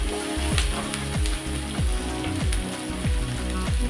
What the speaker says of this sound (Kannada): ಈ ಥರ ಎಲ್ಲನೂ ಸ್ವಲ್ಪ ಎಣ್ಣೆ ಮುಂದೆ ಹಾಕ್ಕೊಂಡು ಚೆನ್ನಾಗಿ ಫ್ರೈ ಮಾಡ್ಕೊಳ್ತೀನಿ